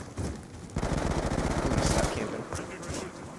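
Rapid automatic fire from a Vector gun in Call of Duty rattles in sustained bursts, loud and close, with brief gaps between volleys and no talking.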